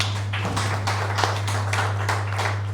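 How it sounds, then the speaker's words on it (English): Audience clapping at a book launch, a steady patter of scattered hand claps from a modest crowd over a constant low electrical hum, with no voices. "Let's clap for him, please."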